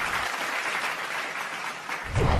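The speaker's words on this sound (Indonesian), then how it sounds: "Langsung saja kita sambut dengan tepuk tangan yang meriah." Warm audience applause welcoming a humor expert on stage, a dense continuous wash of clapping from a crowd, steady throughout with a low rumble swelling at the very end.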